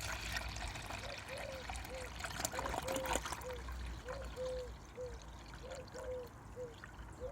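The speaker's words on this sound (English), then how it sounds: "we'll pour that into there." Liquid plant feed pours into a container on an allotment, a steady trickle with faint splashy bursts, quiet and close.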